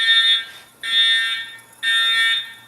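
A fire sprinkler system alarm siren blares in three long, harsh, high-pitched pulses separated by short gaps, loud and close, with no talking.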